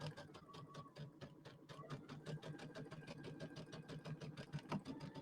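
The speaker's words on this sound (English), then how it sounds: "then I'm going to sew over it again" Sewing machine slowly stitching back over a seam, a continuous rhythmic run of needle ticks and motor hum at low-to-moderate level with no pauses.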